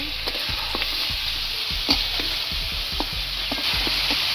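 Duck meat sizzling in hot oil up close, with repeated scraping and clacking as it is stirred around the pan.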